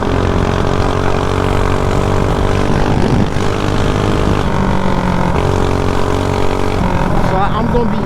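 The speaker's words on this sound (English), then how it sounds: "I'm gonna be in between going full throttle and going like half throttle" A mini bike's small gas engine held at full throttle, a loud, steady engine drone that runs throughout with slight pitch shifts.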